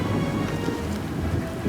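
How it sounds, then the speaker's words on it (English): Steady heavy rain pours down in the Alaska wilderness, a dense, even hiss with low rumbling beneath, continuous and close for the whole short stretch. "That steady rain rapidly grew into a powerful, relentless storm."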